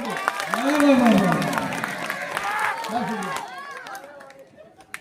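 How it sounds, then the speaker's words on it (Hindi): Audience at a poetry gathering in Nandurbar claps with hands raised, bursts of clapping and crowd noise running under a poet's voice and fading toward the close. "अपने दोनों हाथ ऊपर उठा के एक बार तालियां बजाते हैं"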